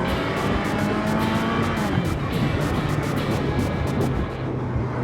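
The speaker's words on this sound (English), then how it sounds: "I rev it out in first gear, I'm only doing 25." A 1979 Kawasaki KZ650SR motorcycle revving in first gear, a loud steady engine drone with wind rush close to the rider, continuing throughout.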